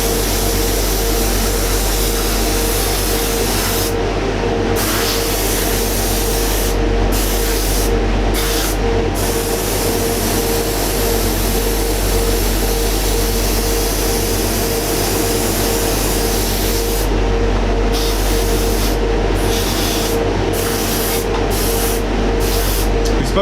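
Spray painting a Revell 1/48 Tornado model kit with a heavy single-pass coat: a loud, steady airbrush or aerosol hiss runs continuously throughout, with a few brief pauses where the spray cuts off and restarts.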